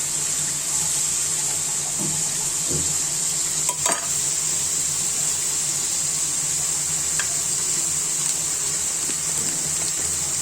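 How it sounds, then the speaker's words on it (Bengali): Onion and garlic fry in a pan with a steady, loud hiss and sizzle, broken by a few soft stirring clinks and scrapes, with no speech. "পেঁয়াজ আর রসুনটা আমি ভেজে নিচ্ছি"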